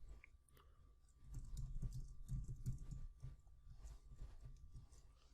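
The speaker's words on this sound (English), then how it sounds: "So I'm just going to type that in." Soft, quick clicking of keys on a computer keyboard during a Houdini software session, a faint run of typing strokes with brief pauses, no talking.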